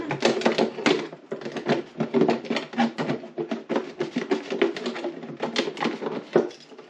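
Repeated crisp cutting snips and taps as a seed starting pot is cut all the way around, close and fairly loud, in an uneven rhythm with short pauses.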